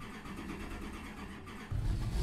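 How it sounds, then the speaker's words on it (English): A car engine starting in the Assetto Corsa racing video game: a quiet, steady hum, then the engine catches and settles into a louder low rumble near the end. "I have started the car."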